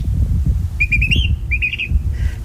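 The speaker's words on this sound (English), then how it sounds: "that bird you were just listening to is a California Thrasher" A California Thrasher sings a series of clear whistled phrases with quick repeated notes, fairly close and distinct above a loud, low gusting wind noise.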